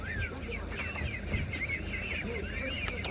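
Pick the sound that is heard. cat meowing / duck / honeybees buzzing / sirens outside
duck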